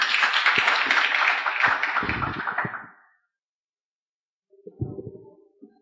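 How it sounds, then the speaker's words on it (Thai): Applause for the speakers at a tech meetup, a broad burst of clapping that fades out by about three seconds, followed by a brief silence and then a few soft, low knocks and rustles. "ขอเสียงปรบมือด้วยค่ะ"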